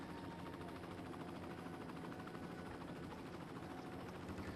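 Steady, faint rotor-and-engine drone of a helicopter in the city-building game Cities: Skylines, a continuous whirring hum with no voices over it.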